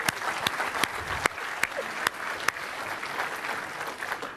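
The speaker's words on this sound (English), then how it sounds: "So actually, I'm going to applaud that guy." Applause from an audience at a tech conference session, a moderate crowd clapping steadily for a few seconds with a few louder individual claps standing out.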